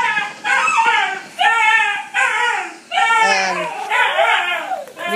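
Several dogs, including two puppies, bark and yelp on a porch in quick, repeated bursts close by, high-pitched and excited, with brief pauses between the barking runs.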